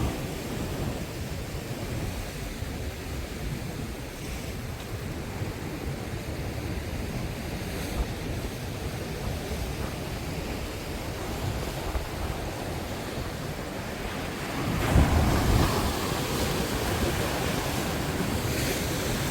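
Ocean waves wash continuously against a rocky seashore at Goseong, Gangwon, a steady broadband surf roar with wind buffeting the microphone and a louder surge of breaking water near the end; no voices.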